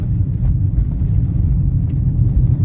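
A manual car's engine drones at a steady, loud low rumble up close from inside the cabin, revving evenly while shifting into third gear, with no talk over it.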